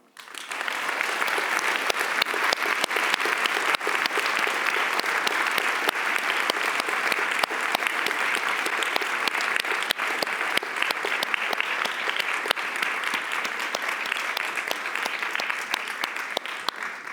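An audience in a hall gives a warm, sustained round of applause welcoming speakers onto a stage, a dense and steady wash of many hands clapping that holds evenly for its full length.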